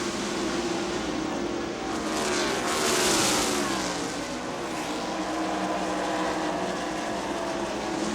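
NASCAR stock cars race at Dover Motor Speedway in the 1990 Peak Antifreeze 500, a loud, steady engine roar that swells briefly as cars pass close and then settles back into a continuous drone.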